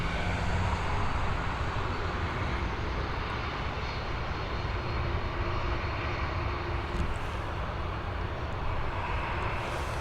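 A plane at Dublin Airport taxiing back to stand, giving a steady, broad engine roar that holds at an even level for the whole stretch, moderately distant and unbroken, with no voices.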